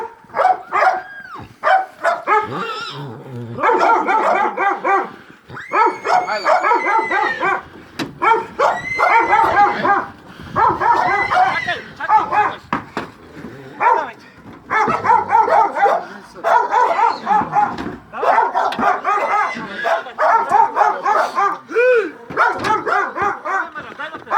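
A dog barks repeatedly and close up in rapid bursts, mixed with yips and whimpers, with a few short pauses between runs.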